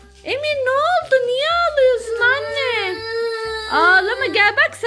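A young child cries at home while toy boxes are being opened, with loud, close, sustained wailing in rising and falling sobs that break off briefly and then start again.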